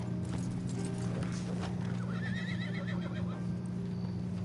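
A Kentucky Saddler horse in Red Dead Redemption 2 clip-clops nearby with steady hoofbeats and lets out a whinny partway through, over a low ambient hum.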